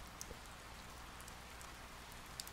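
Steady rain hiss from the video game Persona 4 Golden, a faint, even wash of falling rain with no music, carrying on alone throughout with a couple of small drip ticks.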